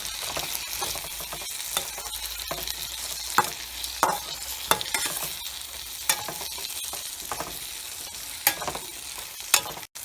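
Sambar powder sautéed in a pan for ven pongal sizzles steadily, with a spoon stirring and scraping in irregular clicks close by, and no voices.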